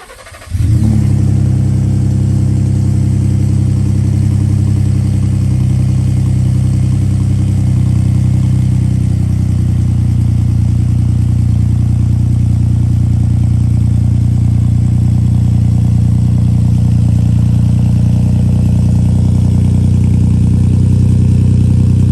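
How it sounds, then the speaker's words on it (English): A 2020 Ford F-150 truck engine with a 4-inch catback exhaust and high-flow muffler fires up and settles into a loud, deep exhaust drone, holding a steady low rumble close by for the rest of the recording. "It's a 4-inch catback exhaust with the high flow muffler. This thing sounds pretty good."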